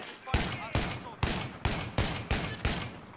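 An M1014 shotgun loaded with flechette rounds fires in Battlefield 3, six loud booming blasts in an even, quick rhythm, each one trailing off briefly before the next.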